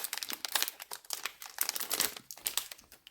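A foil wrapper on a Bluthelden TTCG Origins trading card booster pack crinkles and tears close up, in quick bursts of sharp crackling with short pauses between.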